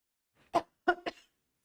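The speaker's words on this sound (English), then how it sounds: "I'm starting to cough and it's just dry chili" Three short, dry coughs close to the microphone, one then a quick pair, in an otherwise quiet room, brought on by dry chili powder.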